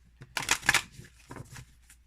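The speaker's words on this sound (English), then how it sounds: "I think I'm so used to shuffling my cards upright" Oracle cards are shuffled by hand close up, a few quick papery riffles and flicks in short bursts with brief pauses between them.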